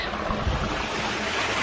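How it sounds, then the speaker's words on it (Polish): A small waterfall, a constant broad rush of falling water heard close up, with no pauses. "Wodospad."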